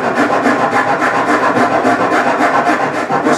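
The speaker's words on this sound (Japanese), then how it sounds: "それでこれで歌口を削るんですけど、 まあヤスリでこうやってね、" A hand rasp files the mouthpiece of a bamboo jinashi shakuhachi flute in quick, regular back-and-forth strokes, a close, dry scraping heard on its own.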